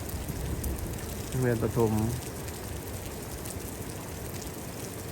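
Heavy rain from Typhoon Ragasa falls over Xaisomboun, Laos, a constant near hiss of downpour running throughout, with a person speaking briefly over it near the start.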